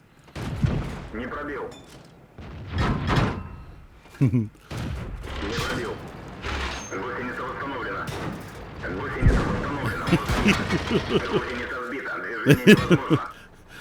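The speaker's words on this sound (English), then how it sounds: "somebody with a little tank is shooting me in a place where they know where to hit" Heavy tank cannon fire and shell impacts boom in World of Tanks, a KV-220 battle, in repeated loud bursts with engine rumble between them, while someone talks over the action.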